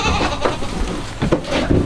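Goats on a small farm bleat loudly and close by, several overlapping calls in a short burst over steady farmyard noise.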